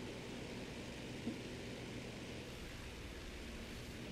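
Stuka dive bomber engines drone steadily while flying in formation in the War Thunder air combat game, a dense, unbroken roar filling the soundscape throughout.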